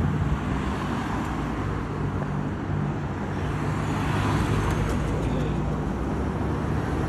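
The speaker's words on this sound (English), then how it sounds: "Traffic heavy over here, traffic deep." Dense road traffic rumbles continuously at the intersection of Ridgeway and Winchester in Memphis, a steady low roar of passing vehicles with no distinct standouts.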